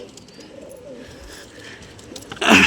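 Pigeons coo softly and steadily at low pitch, close by in a loft, ending in a sudden louder burst of fluttering or rustling.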